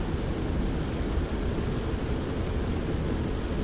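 A P-47 warplane engine in the DCS World War II flight game, heard at dusk before takeoff as a dense, steady roaring drone that holds unbroken throughout, with no voices.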